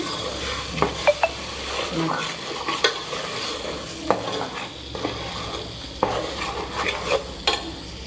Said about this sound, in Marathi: फोडणीला टाकते मटण